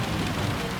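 Heavy rain pours down on the Spa circuit in Gran Turismo 7, a dense, steady hiss of water with no break, loud and close throughout the short stretch.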